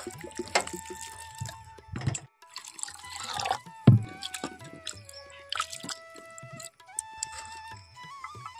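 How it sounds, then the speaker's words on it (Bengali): Water poured into a bowl of flattened rice (chire) in a home kitchen, a trickling, dripping pour with splashes and pauses, close and fairly quiet, no voices. "চিড়ের মধ্যে জলটা দিয়ে দেব"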